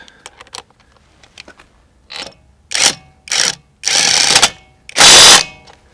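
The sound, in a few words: Litheli U20 1/2 inch cordless impact wrench on lug nuts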